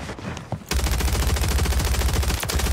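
Rapid gunfire in Call of Duty Warzone: after a brief quieter opening, a dense burst of fast, evenly spaced shots bursts in and keeps going loud and close, with a sharp extra crack near the end.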